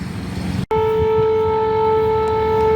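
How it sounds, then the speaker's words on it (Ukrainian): An air raid siren sounds over a Ukrainian town, a steady sustained wail holding two clear pitched tones, loud and continuous after a brief cut, with no talk over it. "І повітряна тривога."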